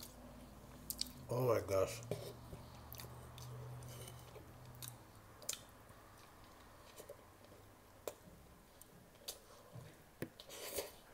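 A first bite into a messy Asian sloppy joe, followed by soft, moist chewing close to the mic, with a brief spoken exclamation over the start.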